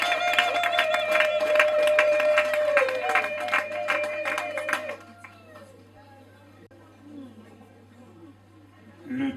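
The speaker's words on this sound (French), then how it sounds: "c'est maman Anne-Marie Nzobo Kana, que je vous prie d'applaudir encore une fois très très fort" A crowd at a birthday celebration claps and cheers loudly for several seconds over a sustained musical tone, then the applause drops away abruptly, leaving quieter background sound.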